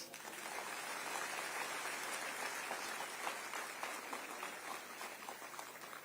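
An audience applauds at a charitable trust scholarship program event, with dense, sustained clapping from a crowd in a hall that stays even and fairly distant throughout.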